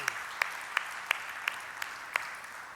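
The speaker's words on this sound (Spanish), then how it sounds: "Un aplauso al Señor, hermanos." Church congregation clapping in a slow, even rhythm, about seven distinct claps spaced roughly a third of a second apart, fairly quiet and with no one speaking over them.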